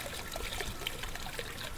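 Water runs steadily from a sink faucet in The Crooked Man, a soft, even trickling stream heard on its own without voices.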